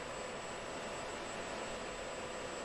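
Jet engine running steadily at 85% throttle in the Falcon 4 BMS 4.33 flight simulator, a constant broad, even roar with no variation and no voices.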